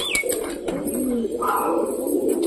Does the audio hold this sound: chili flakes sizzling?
no